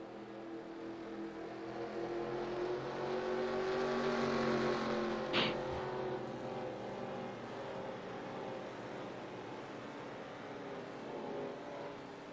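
Simulated race cars at Chicagoland hum as a fairly faint, distant engine drone that swells and fades as the cars pass, with one sharp short burst in the middle.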